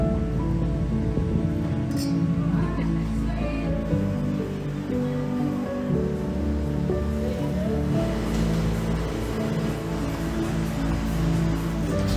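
Ocean waves wash steadily onto a beach in the Philippines, a continuous broad rushing surf that stays loud and close throughout, with no talking.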